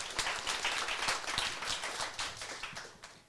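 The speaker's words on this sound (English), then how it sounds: "I wish audience would get a hand clapping for that." An audience at a game competition finals claps with a scattering of separate hand claps, fairly faint and irregular, with no voices heard over it.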